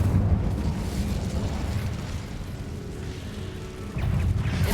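The Incendio fire spell is cast in Hogwarts Legacy, giving a deep, rumbling roar of flame that thins slightly midway and then surges again with a fresh burst near the end.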